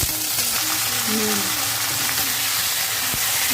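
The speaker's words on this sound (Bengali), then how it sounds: "শুকনো লঙ্কা ফোড়নে দিচ্ছি, কালো জিরে দিচ্ছি ফোড়নে, থেতো করে রসুন এটা দিচ্ছি, পেঁয়াজটা দিচ্ছি" Dried chilies, black cumin seeds, crushed garlic and onion sizzle in hot mustard oil in a pan, a loud, continuous crackling fry with hissing steam, close up, while a voice speaks softly.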